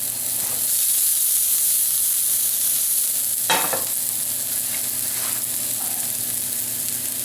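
Fresh garlic frying in hot extra virgin olive oil, a steady bright sizzle with a few sharp bursts of spatter and stirring, close and loud.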